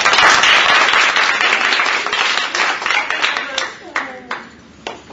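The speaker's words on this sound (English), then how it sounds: "And I want us to recognize her in her absence with the round of applause." Audience applause at a community program, dense and loud at first, then thinning into scattered individual claps that taper off toward the end.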